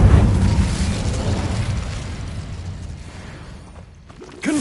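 Incendio fire spell cast during Hogwarts Legacy gameplay: a loud low rumbling whoosh of flame that fades over several seconds, followed by a short renewed burst at the end.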